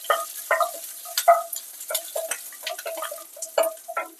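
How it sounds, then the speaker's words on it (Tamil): Shallots fry in oil for kadalai curry while a spoon stirs them, producing a string of sharp, close scraping and clinking strokes over a faint sizzle. "சின்ன வெங்காயம் கொஞ்சம் போட்டுப்போம்"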